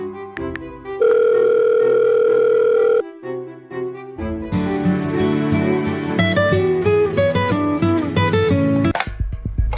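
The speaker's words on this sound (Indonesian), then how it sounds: "Gua bakal telepon Vincent." Steady electronic telephone tones, with a sustained buzzing tone for a couple of seconds, then a longer stretch of layered beeping tones until a sharp cutoff near the end.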